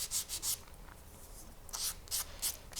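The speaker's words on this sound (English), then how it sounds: "the cutter itself had an overlap in the metal that I'm going to sand out" Sandpaper rubs the edge of a copper ornament in short, quiet scratchy strokes, a few quick passes, then a pause and more passes.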